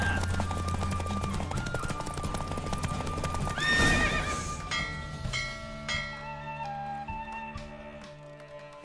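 Horse hooves clip-clop at a racing pace during a horse race in The Witcher 3, with a neigh or whinny, over a steady game music score and effects, fairly loud and continuous.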